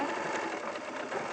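A sewing machine stitches steadily in reverse at a sewing show. It gives a continuous, fairly loud mechanical whir with no talk.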